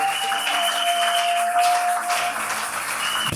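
A church congregation applauds during a French-language worship service: steady, dense clapping from a crowd fills the room throughout, loud and close, with a sustained tone ringing over it.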